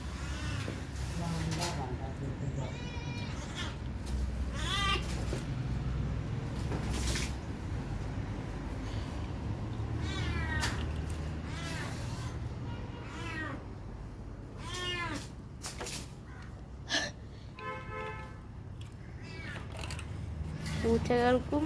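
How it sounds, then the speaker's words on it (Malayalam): Cats fight over meat at home with repeated yowling meows and caterwauls, loud and near, coming in bursts over a noisy background with some talk. "പൂച്ചകൾ അവിടെ ഇറച്ചിക്ക് വേണ്ടി തല്ലിടുകയാണ്."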